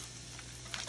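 Peppers and onions cooking in a pan, a faint, steady sizzle over a low hum, with a brief rise in crackling near the end.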